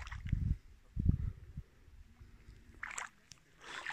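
A Progress motor boat is hauled by hand by its handle through shallow water on Lake Seliger, giving a few soft sloshing and splashing bursts close by, with quieter watery rustles in between.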